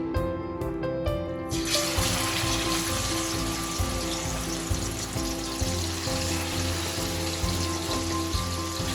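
Chicken pieces seasoned with turmeric and salt drop into a little hot oil and deep fry, breaking into a loud, steady sizzle after a few brief clicks. The sizzle holds continuously with faint crackles.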